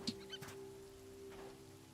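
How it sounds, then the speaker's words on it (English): A desert chicken from the Hytale video game gives a few soft, brief clucks near the start and again later. The clucks are faint over a quiet ambient background. "Aww, desert chicken!"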